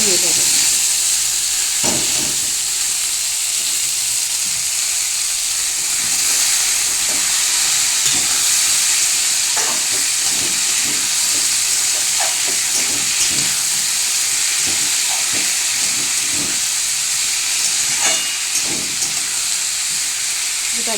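Ash gourd sizzles loudly and steadily in a hot pan, a constant bright hiss with scattered light knocks from stirring throughout.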